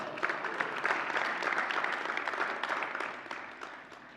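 An audience gives a round of applause at a live event, a dense, sustained burst of clapping from many hands, fairly close and even throughout, with no talking on top.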